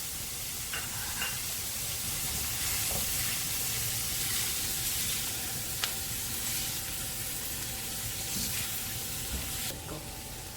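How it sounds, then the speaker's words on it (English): Onions, garlic, chilies and ginger sizzle in a pan while cooking Bicol Express, a steady close hiss of frying that runs unbroken with a few faint clinks and no talk. "And that's our onions, garlic and chilies sweating down with the ginger."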